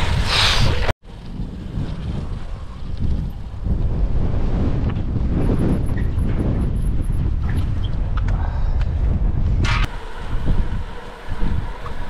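Strong, gusty wind roars into the microphone of a solo cyclist out on the road in gusts of up to 30, loud and buffeting for most of the stretch, briefly cutting out near the start.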